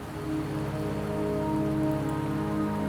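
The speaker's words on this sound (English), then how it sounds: "Don't worry, the rain won't last much longer." Steady rain falling in the video game Wuthering Waves, a continuous soft hiss of drops on surfaces lasting throughout, with tonal game music underneath and no talking.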